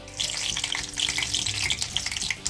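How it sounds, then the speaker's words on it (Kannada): Mustard seeds splutter and crackle in hot oil in a pan for tempering, a dense stream of rapid close pops and sizzling that continues steadily without any talk. "ಸಾಸಿವೆ ಸಿಡಿದಿದೆ."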